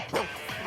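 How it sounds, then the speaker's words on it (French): A small dog yips at an animal market in Seville, a single short, sharp bark heard nearby against a busy, noisy background. "Le petit chien, là, dedans."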